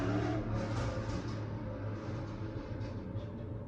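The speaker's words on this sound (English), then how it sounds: "How many people ride motorcycles in my neighborhood?" A motorcycle passing by outside, its engine droning steadily with a slowly falling pitch, moderately faint and heard alone.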